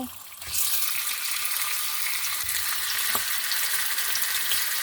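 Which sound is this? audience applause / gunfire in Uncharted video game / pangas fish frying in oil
pangas fish frying in oil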